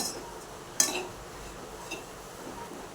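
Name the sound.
stirring grated coconut and jaggery in a pan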